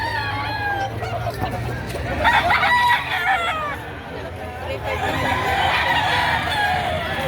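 Roosters crow loudly nearby, one call following another, while chickens cluck in the background and people talk at a chicken market in Padre Garcia, Batangas, Philippines.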